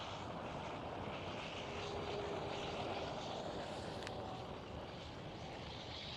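A KLM Boeing 737 at Amsterdam Schiphol gives off a steady, broadband jet-engine roar with a faint whine, fairly near and constant throughout.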